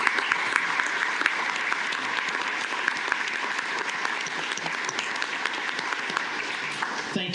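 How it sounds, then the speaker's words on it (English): An audience at a county commissioners court meeting applauds an honoree for 30 years of service, a loud, sustained, even burst of many hands clapping without a break. "And for all of you, again, a big round of applause."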